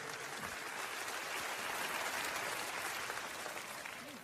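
A church congregation applauds during a sermon, a steady, dense wash of clapping that holds at an even level for several seconds and tapers slightly at the end, with no talk over it.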